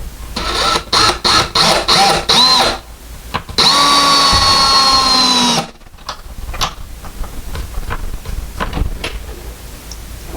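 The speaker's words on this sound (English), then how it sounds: "I am using an electric screwdriver just to screw it in" An electric screwdriver drives a screw to mount the cleat of a Moen coat hook, with a run of short, loud, rhythmic trigger bursts followed by a longer sustained whirring drive, then quieter handling noises. No one speaks.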